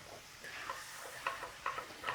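Alcohol flambéing over duck foie gras in a hot pan gives a faint, steady sizzle, with a few brief crackling bursts at irregular intervals.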